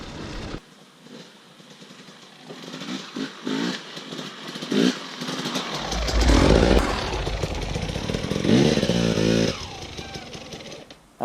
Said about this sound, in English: That's it for the first ride on the 2018 KTM 250 XCW TPI.